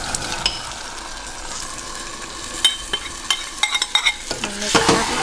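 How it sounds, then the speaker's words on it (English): Pork belly and coconut sauce sizzle in a caramel glaze, a steady close frying hiss punctuated by several sharp clinks and scrapes of a utensil against the pan toward the end. "I'm going to add back my pork belly and coconut sauce here"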